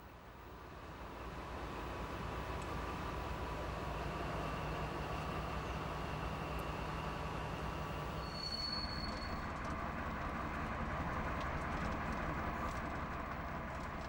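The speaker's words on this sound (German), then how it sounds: "Es ist eine V100 oder besser gesagt eine ehemalige 213 mit Stahlstreckenzulassung, die hier den Bauzug schiebt." A former class 213 V100 diesel locomotive pushes a construction train on the Mittelweserbahn, a faint, steady rumble of rolling wagons and rails with a brief high squeal partway through, heard from a distance with no voices.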